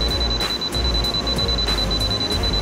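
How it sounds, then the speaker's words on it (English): A steady high-pitched electronic tone from an ANENG 619A digital multimeter beeping quickly on a live wire, continuous, with faint rapid pulsing and a low hum underneath. "a live wire will beep quickly, and the LED light is red."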